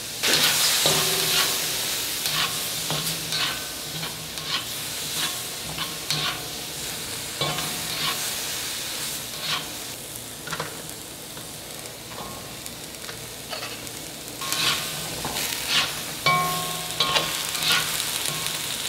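Carrots, broccoli, sugar peas, zucchini and mung bean sprouts crackle and sizzle in a hot pan as they are stir-fried, with repeated spatula scrapes and clinks against the metal throughout and no talk.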